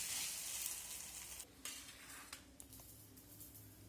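Paratha frying with egg for egg rolls gives a steady, loud sizzle that eases and thins after the first moments, with a few brief scraping clicks on the pan and no talk.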